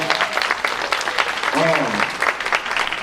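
An audience at a high school career day panel gives the speakers a lively round of applause, dense clapping throughout with a brief voice or cheer rising in the middle.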